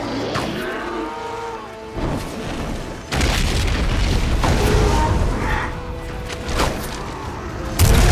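In the Lord of the Rings: Conquest video game, Saruman's machine is destroyed by a loud, deep explosion that erupts suddenly, followed by sustained rumbling battle noise and a further heavy boom at the end.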